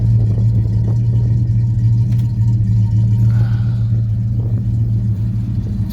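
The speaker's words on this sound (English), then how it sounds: "Listen to that car. It sounds amazing." A 1970 Buick GS Skylark engine idles with a loud, steady low rumble, heard close and continuous with a slight swell partway through.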